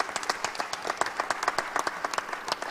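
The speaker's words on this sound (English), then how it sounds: "Give him a round of applause, everybody." Audience applause for a volunteer at a tech conference stage show, a lively burst of many hands clapping, crisp individual claps standing out over a crowd wash.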